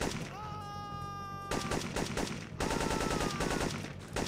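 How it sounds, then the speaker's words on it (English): Rapid gunfire clatters in the video game Syphon Filter 2, dense repeated shots layered with a tonal whine and game effects, loud and continuous throughout the short stretch. "Jesus Christ, those insta headshots"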